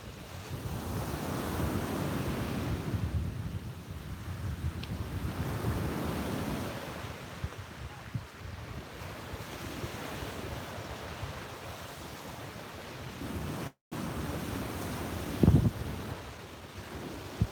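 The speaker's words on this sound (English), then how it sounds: "We're in South Beach, Miami Beach, and this is the Atlantic Ocean." Steady wash of Atlantic Ocean surf rolling onto South Beach, Miami Beach, with wind buffeting the microphone throughout and a brief dropout near the end.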